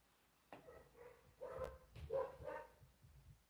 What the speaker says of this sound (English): There's the dogs barking.